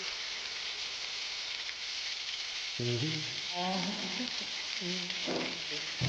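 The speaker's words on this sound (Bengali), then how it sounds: "এপিট টপিট করে ভালো করে ভেজে নিতে হবে" Oil sizzles and hisses steadily throughout as lentil fritters deep-fry, while a voice speaks over the frying in the second half.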